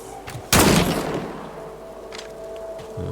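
A single loud, close gunshot in the Scars Above video game, cracking sharply about half a second in and fading over a second, followed by faint ambient rumble.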